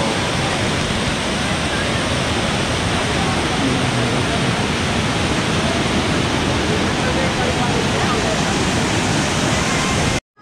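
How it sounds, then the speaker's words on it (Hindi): Loud, steady rush of cold, fast-flowing water pouring down a mountainside nearby on the Vaishno Devi pilgrimage route, a dense continuous roar that runs unbroken before cutting off abruptly at the end. "देखो सामने पहाड़ से बहुत तेज पानी आ रहा है"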